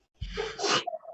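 A single close sneeze bursts out sharply and alone, followed by a short nasal exhale.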